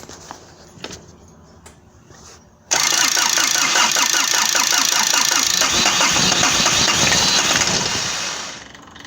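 A 2007 Toro 3500D Sidewinder mower's diesel engine cranks after a fuel filter change, with a few clicks and key sounds first, then bursts into a loud, steady close-up run before tapering slightly at the end.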